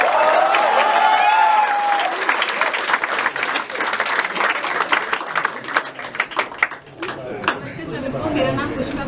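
A theatre audience applauds after a stage play, dense clapping filling the whole stretch alongside crowd chatter and voices, fading somewhat in the final seconds.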